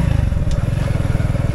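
An Orion moped engine runs steadily with a fast, rough, rhythmic putter, loud and close throughout with no pauses.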